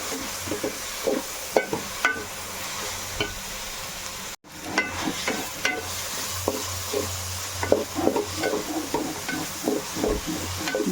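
Onions and curry leaves fry steadily in a pan for a coconut-milk chicken curry, a constant close sizzle broken by scraping stirs and clinks of a spatula, with a brief cut to silence partway through.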